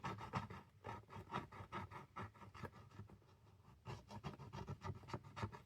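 Fingernail or coin scratching the scratch-off coating on a code card from an autumn subscription box, a close, quiet, rapid rasping rubbing in uneven strokes that briefly slows midway, with no talk.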